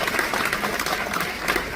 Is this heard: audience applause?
yes